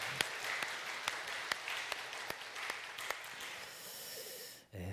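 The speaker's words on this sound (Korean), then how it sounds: "우리 박수로 격려하며 하나님께 영광 올려드리겠습니다." A church congregation applauding after a hymn, steady close clapping throughout with a few sharper claps standing out, fading to a brief pause near the end.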